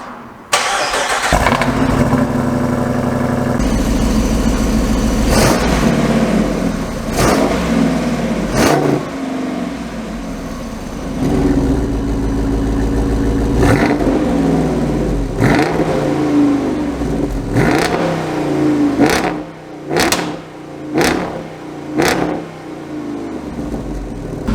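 The Jeep 392 V8 on its stock exhaust fires up with a loud bark and settles into a deep idle. A long series of sharp throttle blips and revs follows, some of them quick and close together, with no voices.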